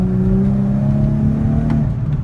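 Infiniti G37 fitted with ISR test pipes revving, a loud steady engine drone whose tones climb and fall slightly as the throttle is held, with no talk over it.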